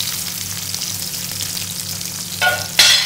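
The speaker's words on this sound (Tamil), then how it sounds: "வதக்கிட்டு இந்த நல்லா வதக்குங்க" Garlic, onion and cinnamon sautéing in a pan for a South Indian gravy, a steady close sizzle with brief louder bursts of frying near the end.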